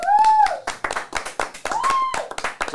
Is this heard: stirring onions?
no